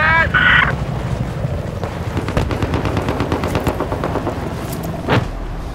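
A .50 cal machine gun in a video game fires rapid bursts over wind and game noise, with a brief beep near the start and a sharp report near the end.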